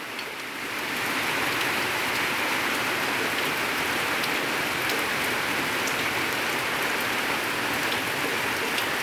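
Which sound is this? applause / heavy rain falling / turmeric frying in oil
heavy rain falling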